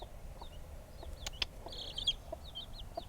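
A backyard hen clucks low and soft while her chicks give thin, high peeps, a few short calls over quiet outdoor background.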